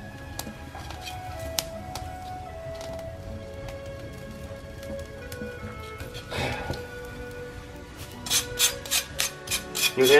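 A blade scrapes singed skin off pork for a Nùng-style dish, with faint crackling and rubbing that builds into a series of quick rhythmic rasping strokes near the end.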